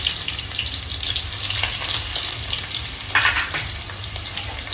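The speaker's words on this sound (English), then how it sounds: "we can start preparing by frying first the potatoes with skin, of course." Potatoes with their skins on fry in hot oil in a pan, giving a steady close sizzle and bubbling with occasional clinks and stirring scrapes throughout, no talking.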